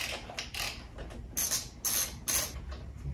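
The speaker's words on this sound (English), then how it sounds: "This is using a T40 Torx here and then a 13mm socket to loosen those the bolts securing the calipers." Socket ratchet and Torx driver loosening the brake caliper bolts on a BMW R1200RS motorcycle in a workshop, giving several close, sharp metallic clicking and ratcheting bursts over a low background hum.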